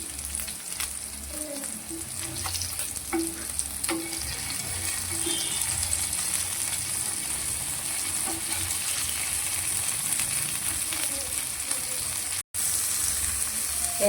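Paneer frying in a pan on a stove, a steady, close sizzle that runs continuously with faint clinks of stirring and turning.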